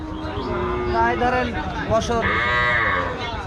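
Calves and cattle at a morning calf market in Rajshahi, with loud, close moos and lowing from several animals over a continuous crowd hubbub and talking.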